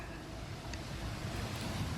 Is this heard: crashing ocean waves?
yes